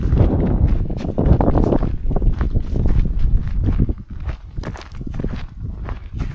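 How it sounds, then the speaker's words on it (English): Steady footsteps crunch softly across grass on the Maah Daah Hey Trail at a walking pace, with light wind brushing the microphone and no talking. "the sound of my own footsteps out here"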